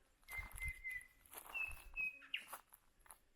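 A bird in the Kimberley bush on the Australian coast gives a few thin whistled calls, moderately near, over rustling and footsteps outdoors.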